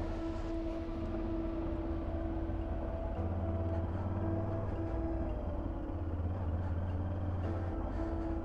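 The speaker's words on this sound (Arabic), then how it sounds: "نركز مع صوت المروحة خاطر حسها سخنت شوية الموتور." Car cooling fan whirring steadily on a hot engine, a constant drone with a low hum that shifts slightly in level partway through, running alone with no talk.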